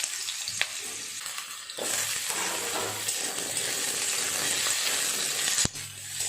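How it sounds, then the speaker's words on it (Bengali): Potatoes frying in hot oil give off a steady, close sizzle, broken by a few sharp clinks and scrapes of stirring in the pan. "এই তেলে আলুগুলো একটু ভেজে নেব।"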